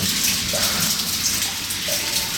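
Groundwater trickles and drips inside a lead mine passage where iron ochre forms small waterfalls on the rock, a steady close splashing and gurgling with a few distinct drips, no voices.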